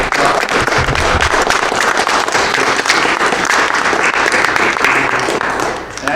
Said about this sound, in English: let's give Colin a round of applause